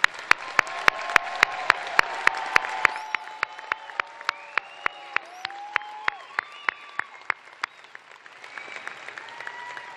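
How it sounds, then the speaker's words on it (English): An audience at a business school precommencement ceremony applauds bachelor degree graduates with steady, moderately loud clapping, while a few sharp individual claps stand out near the recording, fading slightly toward the end. "So let's have one last round of applause for that group."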